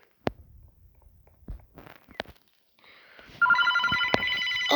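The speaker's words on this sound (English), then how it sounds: "Oh, the phone is ringing." A video game telephone rings repeatedly in the closing seconds, loud and close, after a few sharp clicks and soft footsteps.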